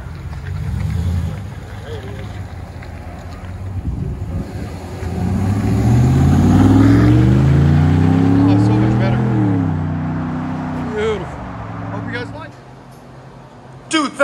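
A RAM 1500 Classic pickup with a 5.7L Hemi V8 and stock converters revs its exhaust close by, the deep rumble rising and falling through a long rev before settling back to idle.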